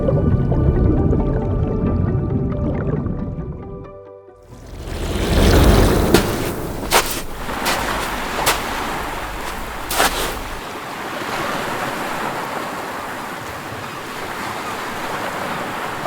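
Surf of the Irish Sea rolling in with a steady wash, preceded by a quieter tonal stretch and broken by a few sharper splashes before settling into continuous broadband roar.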